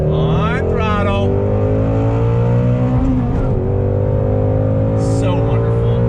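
A 2018 Ford Shelby GT350 engine revving hard under throttle, loud and close, the pitch climbing through the revs, dipping briefly near the middle, then rising again with sharp high crackles.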